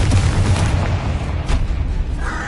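A Confringo fire-blast spell from Hogwarts Legacy erupts in a dense, booming explosion with a deep rumbling low end. A sharper crackling burst flares near the middle before the sound settles into a steady roar.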